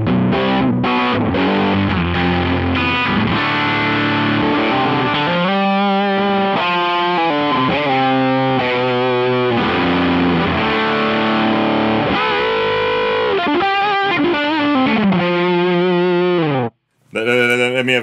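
Loud, heavily distorted electric guitar with P90 pickups, played through a Mozztronics HA-2 headphone amp with everything on 10, plays dense chords and riffs continuously, cutting out briefly near the end before resuming.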